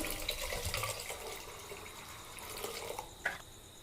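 Water poured into a pressure cooker over washed lentils: a soft splashing, trickling flow with a few faint drips and one brief brighter splash near the end, fairly quiet and close, no talking.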